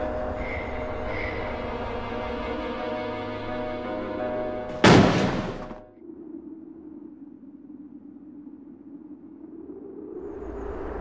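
A single sharp gunshot cracks loudly midway through, breaking over a steady tonal drone and fading into a lower, quieter rumble afterward.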